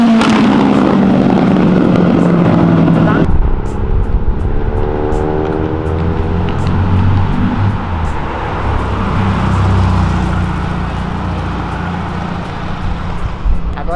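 Cars including a Lamborghini, BMW and Ferrari downshift on Avenida Europa. A loud revving pass opens the clip, followed by engine notes sweeping up and down as vehicles go by nearby, over a continuous roar of traffic.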